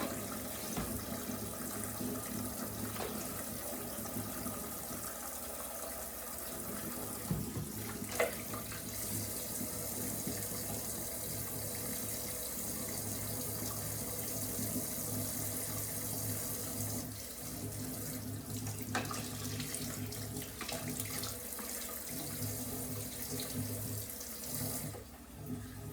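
Running tap water splashing into a sink, a continuous steady hiss with slight shifts as something is rinsed under the stream, close and unbroken.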